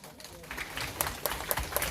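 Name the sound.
children applauding new friends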